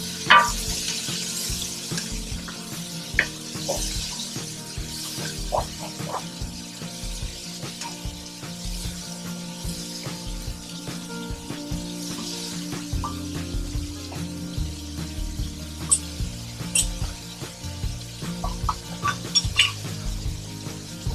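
Chopped vegetables for New England clam chowder sweat in a pot, giving a soft low sizzle under frequent clinks and scrapes of a spoon stirring against the metal.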